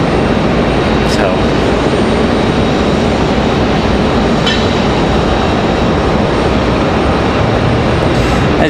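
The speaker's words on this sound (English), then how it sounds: "we got a United A319 pushing it back" A United Airbus A319 being pushed back at Raleigh-Durham airport, a steady loud broadband engine and ground rumble filling the whole stretch without letup, with a voice talking over it.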